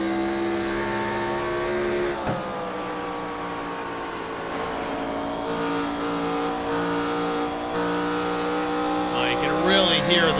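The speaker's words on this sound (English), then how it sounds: "can really hear the modulation of the throttle pedal" In the IROC sim racing video game, a race car engine drones with shifting pitch as the throttle is rolled on and off through the corners, while a commentator talks over it throughout.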